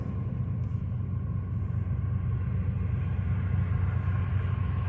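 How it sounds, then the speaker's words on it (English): A BNSF freight train rumbles past with a deep, steady, continuous low roar heard from a moderate distance, unbroken for the whole stretch and with no talking. "Yep, that's our train."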